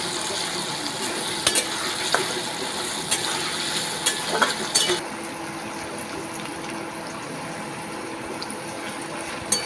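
Potatoes frying in a pan with a little turmeric, steady soft sizzle under occasional clinks and scrapes of stirring, moderately close and without talk.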